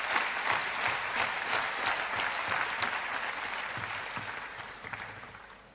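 Table tennis crowd at a women's singles match in Europe Smash 2025 breaks into sustained applause, loud and dense at first, then slowly thinning and fading toward the end.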